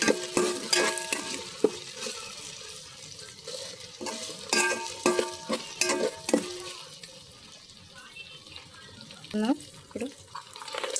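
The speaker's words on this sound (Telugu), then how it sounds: "వేగినాయి కదా, కొంచెం ఫ్రై చేసుకోవాలి." Vegetables for veg palav fry and get stirred in a pan, with intermittent scraping and clattering strokes over a low sizzle, close and moderately loud, with some water-like running noise and a voice speaking briefly.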